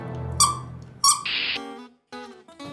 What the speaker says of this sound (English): the squeaky toy.